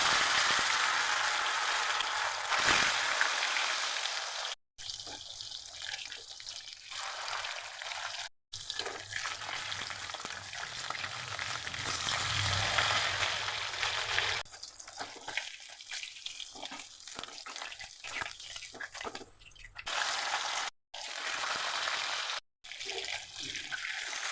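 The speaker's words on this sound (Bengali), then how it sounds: "তেল গরম হয়ে গেছে মাছ ছেড়ে দিলাম" Fish frying in hot oil, a loud broadband sizzle and spatter that swells and drops off several times, with brief pauses and clattering between bursts.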